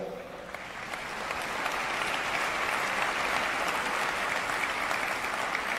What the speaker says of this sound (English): I'm wary of all these clapping hands